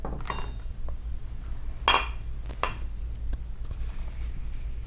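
Gazpacho ladled into a bowl, with a few clinks and knocks of a utensil against crockery in a quiet kitchen, one brighter clink standing out midway and softer taps after, no talk.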